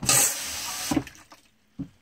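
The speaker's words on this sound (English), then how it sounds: "if you want to add water to your bowl, you push down on the pedal" A short loud rush of water into a pedal-operated toilet bowl in a camper or RV, cutting off after under a second, followed by a couple of soft knocks.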